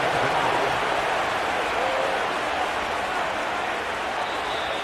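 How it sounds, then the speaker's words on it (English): Stadium crowd in a pro football video game roaring steadily before a third-and-long snap, a dense, loud, unbroken wall of cheering noise throughout. "The crowd cranking it up another notch before 3rd and long."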